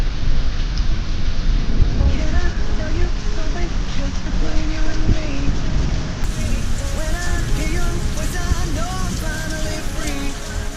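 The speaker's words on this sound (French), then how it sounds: "Il y a eu un bel orage là" Heavy rain pours steadily during a thunderstorm in the Dolomites, with thunder rumbling under it and voices talking now and then through the downpour.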